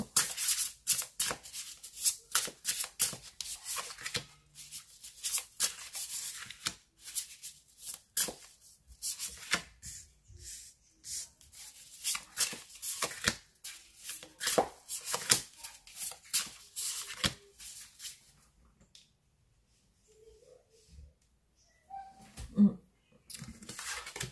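Tarot cards being shuffled for a new reading, a dense run of soft rapid riffling and patter close by, pausing near the end with a few faint clicks.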